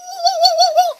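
Human voice imitating a mule, a single sustained tonal bray-like call with a wavering pitch, loud and close, lasting about a second.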